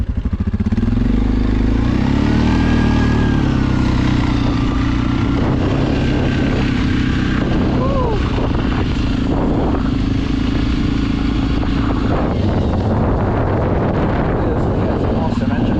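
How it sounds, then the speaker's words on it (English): Suzuki KingQuad ATV engine braking in a snowstorm, a loud steady low engine drone with shifting pitch and heavy wind buffeting the microphone throughout. "It's awesome engine braking."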